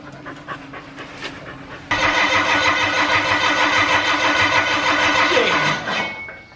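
A tractor's diesel engine cranks over with a few rhythmic chugs, then roars to life loudly and runs steadily before revving down and fading.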